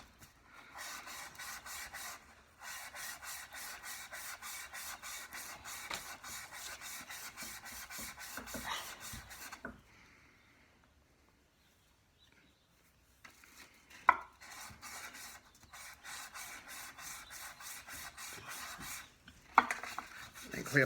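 A steel chisel pushed back and forth across a 1000 grit sharpening stone, a steady rhythmic scraping and rasping in long runs, broken by a quiet pause before the strokes resume, with a couple of sharp clicks near the end.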